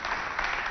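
Brief burst of audience applause at a French-language charity show, steady clapping from a crowd at moderate distance, lasting under a second with no talk over it.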